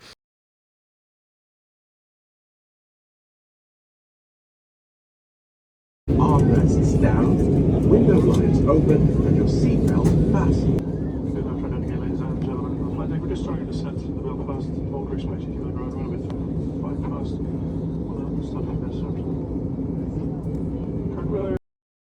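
An airliner's cabin hum on approach to landing, heard from inside the plane after a silent opening. It sets in abruptly as a loud, steady engine drone, then drops to a slightly lower, even rumble, with faint talk beneath it.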